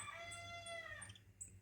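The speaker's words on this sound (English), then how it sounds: "the rooster in the background." A rooster crows several times in the background on a still morning in nature, the drawn-out calls faint and distant over a soft, steady outdoor ambience.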